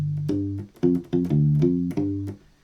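Short funk blues bass pattern on a U-Bass, one measure of plucked, rounded low notes in a syncopated rhythm with brief gaps, close and clean with no voice over it.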